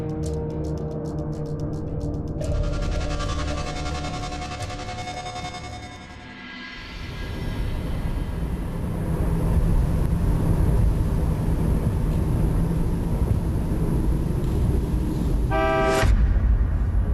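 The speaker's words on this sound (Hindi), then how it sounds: "गाड़ी की उनकी आवाज तो मालिक की गाड़ी की लग रही है।" A car arrives with a sustained engine and road rumble building over a tonal backdrop, then a short loud horn honk near the end; no one speaks.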